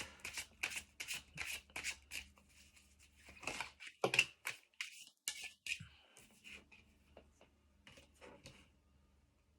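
Oracle cards are shuffled and pulled in a series of crisp, rapid riffling and flicking bursts close by, then fewer, softer card sounds, with a brief quiet stretch at the end.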